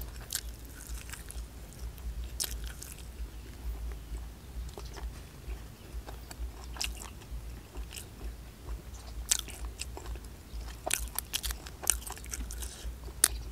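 Crispy roast suckling pig skin being bitten and chewed up close, with repeated sharp crunches at an irregular rhythm over a low steady background, no talk.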